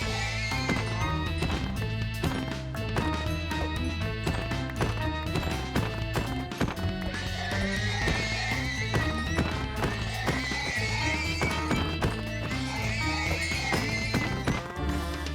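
Horses in the Minecraft video game whinny and clop their hooves in a steady, loud run of sound that plays without a break under dense game audio and music.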